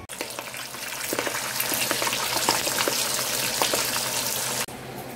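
Pork chicharrón crackling in hot oil in a small pot, with a steady, loud frying hiss that carries dense popping and spitting nearly throughout before it briefly drops away near the end.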